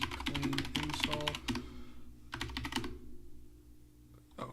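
Rapid clattering keystrokes on a computer keyboard, dense bursts of typing with brief pauses, close and clear with no talk.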